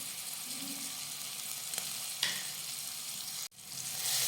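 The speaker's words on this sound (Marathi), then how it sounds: "त्यानंतर आलं आणि हिरव्या मिरचीचा ठेचा घालूयात" Ginger and green chili paste fries in oil with cumin and asafoetida, a soft steady sizzle with a few sharp stirring clicks and one brief dropout, close and fairly quiet with no talking.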